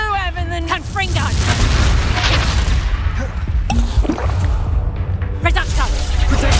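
Confringo fire spells explode in Hogwarts Legacy, a run of loud booming blasts and crashes in dense combat. A player's voice talks and shouts spell names over the explosions throughout.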